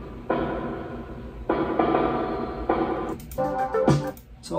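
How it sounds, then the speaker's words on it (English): Snare drum drenched in spring reverb within a studio song mix, with several hits ringing out into a washy metallic tail among other instruments, moderately loud. "You can hear this spring reverb on the snare."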